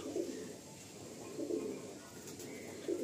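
Madrasi pigeons in Garia, Kolkata coo in three soft, low, rolling calls at a steady spacing, close and faint against quiet background noise.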